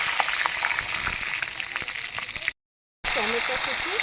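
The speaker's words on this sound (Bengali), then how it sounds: "তেলটা আমার গরম হয়ে গেছে, শুকনো লঙ্কার ফোড়ন দিলাম আর 5 ফোড়ন দিয়ে দিলাম।" Dried red chillies and five-spice seeds sizzle steadily in hot oil, a continuous crackling fry broken by a brief silent gap, with someone talking over it near the end.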